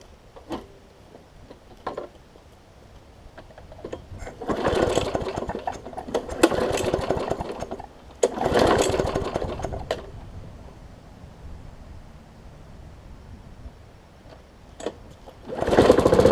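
A Hyper Tough push mower fitted with a donor engine that has a diaphragm issue, cranked in bursts of sputtering engine noise before catching and running, loud and close, with quieter gaps between pulls.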